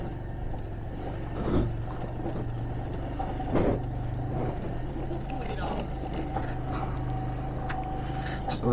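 Road traffic rumbles around a motorbike ride in Kodaikanal, with a steady engine drone, a few louder vehicles passing close, and people talking over it.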